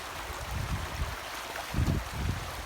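A river flows with a soft, steady rush of water, faint and broad, with a few low gurgling swells and no voices.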